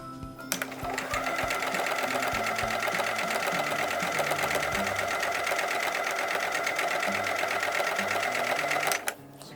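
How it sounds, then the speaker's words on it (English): After a few soft clicks, a sewing machine runs in one long steady burst while stitching down a marked line on a quilt block, its rapid even whirr staying loud and close before stopping abruptly. "So I'm going to sew down the right hand line"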